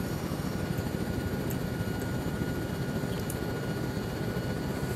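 Bell Huey helicopter in flight in Arma 3, a steady loud rotor and engine roar filling the whole stretch without pause, no voices over it.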